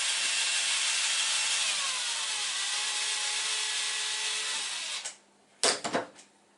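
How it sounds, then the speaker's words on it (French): A power drill bores into the wooden parts of a handmade toy pirate ship, running steadily for about five seconds before stopping, followed by two short bursts of handling noise. "Maintenant, on va percer les deux autres qui sont à 90 degrés."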